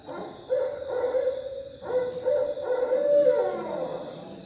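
A recording of a barred owl call plays, a loud, sustained, hooting, howl-like tonal cry that rises and falls in two long phrases, heard clearly and alone at an indoor historical society meeting.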